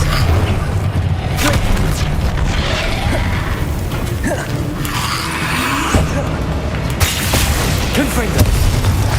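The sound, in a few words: Expelliarmus spell cast in the video game Hogwarts Legacy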